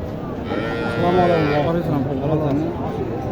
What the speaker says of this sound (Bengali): গরু প্রচুর গরু আসছে প্রচুর গরু আসছে